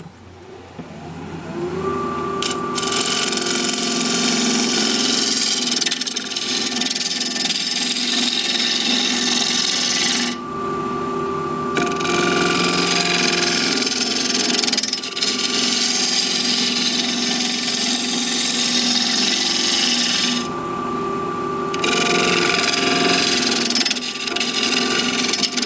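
A wood lathe spinning a workpiece while a tool cuts an undercut, with a loud continuous motor hum and harsh scraping bursts that pause and resume several times.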